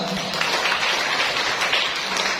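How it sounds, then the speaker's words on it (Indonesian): A crowd at a Catholic charismatic prayer gathering claps steadily in dense, continuous applause, close and fairly loud, lasting a couple of seconds. "Tepuk tangan dulu."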